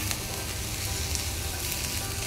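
Vegetables for chicken vegetable spaghetti fry in a pan over a medium-low flame, giving a steady, even sizzle that holds close and constant throughout, with no voices.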